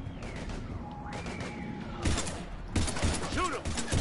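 Gunfire in the Mass Effect video game during a firefight with husks: bursts of rapid shots and impacts come in clusters, mixed with game music and voices.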